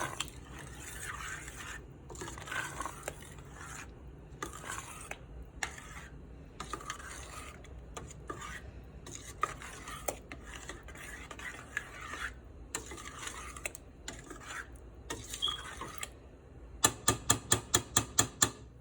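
Ricotta being mixed into lasagna sauce, repeated soft scraping and stirring strokes of a utensil in a pot, close and rhythmic, ending with a burst of quick rapid taps.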